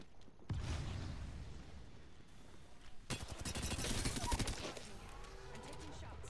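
Rapid bursts of gunfire in a shooter video game, dense fusillades with a sharp crackling rattle, loud and close, mixed with game noise and some voice.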